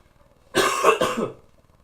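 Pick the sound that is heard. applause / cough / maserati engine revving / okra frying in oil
cough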